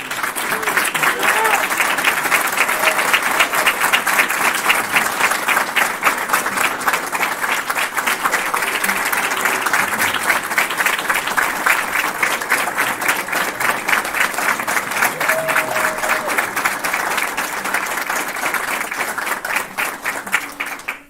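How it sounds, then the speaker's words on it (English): A crowd applauds at an ROTC commissioning ceremony, steady and dense clapping that continues strongly for about twenty seconds before breaking off abruptly. "Please join me in a round of applause."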